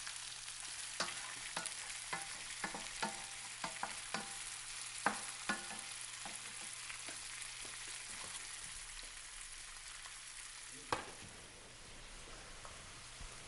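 Brioche frying in a pan, a soft continuous sizzle with a run of rhythmic taps and scrapes from a utensil, then a louder clatter near the end before the hiss settles, faint and with no talk.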